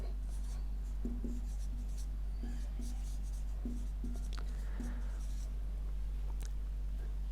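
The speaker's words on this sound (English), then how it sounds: "So that I will write now." Pen scratching on paper while chemistry notes are written, short scribbling strokes in irregular bursts over a steady low hum, fairly quiet and close.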